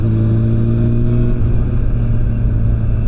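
An automatic car with a stuck accelerator pedal revs loudly and steadily up close, its engine holding a high droning pitch with a rough rumble underneath. No one talks.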